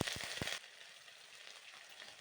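Ginger paste sizzles in hot oil in a wok after five-spice seeds, dried chilies and bay leaves, with a brief louder burst of frying and stirring at first that settles into a quiet, steady crackle.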